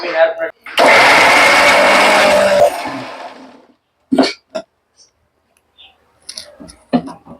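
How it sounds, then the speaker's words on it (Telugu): A mixer grinder whirs loudly for about three seconds as it grinds curry leaves for homemade hair oil, then winds down. Scattered clatters and brief voice sounds follow in near silence. "సో ఇవన్నిటిని ఇప్పుడు మిక్సీ పట్టుకోబోతున్నాను అనమాట."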